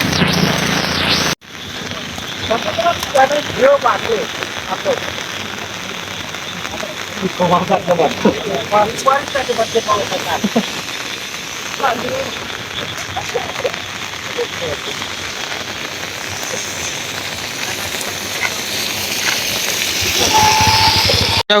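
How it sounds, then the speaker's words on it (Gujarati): Heavy rain pours down in a continuous loud hiss, with people talking beneath the downpour. "આવો ને આવો વરસાદ ચાલુ રહે ને તો ઓગું આવી જાય"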